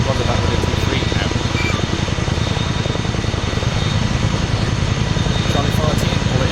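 A helicopter engine in ArmA 3 gives a loud, steady rotor chop and turbine roar that fills the whole stretch without letting up.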